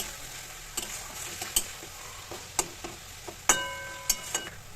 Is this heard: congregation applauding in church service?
no